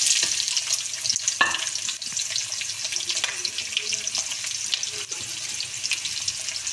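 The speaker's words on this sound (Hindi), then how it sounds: "अब हम इसमें प्याज डाल दें।" Onions frying in oil with garam masala for Lahori chana masala, a loud continuous sizzle broken by a few scrapes and clinks of a spoon stirring in the pan.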